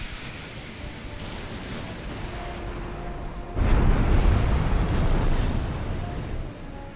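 Heavy naval guns from 1890-era battleships boom in Ultimate Admiral: Dreadnoughts, a deep thunderous blast landing midway and rolling into a sustained low rumble over a constant sea-like wash.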